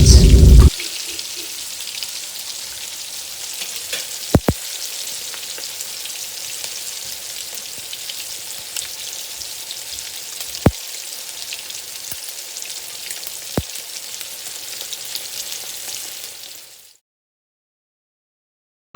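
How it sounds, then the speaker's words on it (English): Fish fries in a pan of hot oil for an Indian-style fish fry, giving a steady, close crackling sizzle with scattered sharp pops, running without talk until it cuts off abruptly near the end. "now let's leave this side to fry for a little while"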